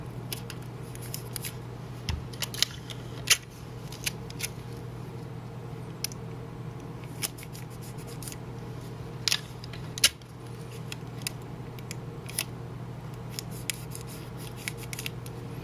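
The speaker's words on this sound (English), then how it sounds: "I'm going to mask off my stamp with some Scotch tape" Scotch tape being torn off to mask a rubber stamp for card making: scattered sharp close clicks and snaps over a faint steady room hum, with no voices.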